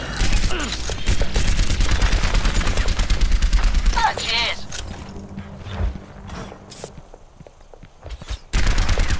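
Rapid bursts of video game gunfire from Overwatch on the Ilios map rattle loudly, with dense automatic shots and mechanical clatter, easing off midway before a loud burst returns at the end.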